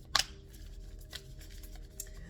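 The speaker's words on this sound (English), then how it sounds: "I'm going to do a little bit of shuffling, not much. They're pretty shuffled already." A deck of Healing Waters oracle cards being shuffled: a sharp riffle at the start, then soft scattered card slaps and rustles, quiet and close.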